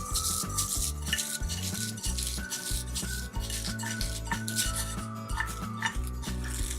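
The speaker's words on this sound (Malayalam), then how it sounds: "നമുക്കൊന്ന് തുറന്നു നോക്കാം. ഒന്ന് മിക്സ് ചെയ്ത് കൊടുക്കാം ഒന്നുകൂടെ." Peanut rice being stirred in a cooking pot, a steady run of scraping and clinking spoon strokes against metal with faint sizzling underneath, close and fairly loud, no voices.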